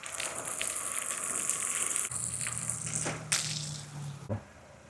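Water sprayed onto a Nissan X-Trail windshield being fitted with a Wipeout wiper, a hissing spray that shifts into a lower whooshing tone, with a sharp splashy burst and a brief knock near the end.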